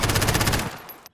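FR556 assault rifle fire in Call of Duty Modern Warfare, a fast, loud automatic burst of evenly spaced shots that stops abruptly and leaves a short fading tail.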